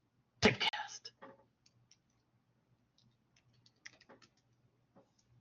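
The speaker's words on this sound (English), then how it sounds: "And then I'm going to type typecast." A computer keyboard is typed on in two short bursts of quick clicks, one loud and close, then a softer run a few seconds later, with quiet pauses between.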